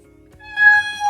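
A cat meows, one drawn-out harmonic cry rising and swelling loudly after a quieter opening, heard close with no talking.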